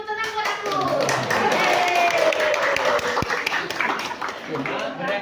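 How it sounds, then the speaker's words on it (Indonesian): Hands clapping at a district health office monitoring and evaluation event in Kutai Kartanegara, a steady patter of several people applauding for about five seconds with voices talking over it. "Tepuk tangan buat aku."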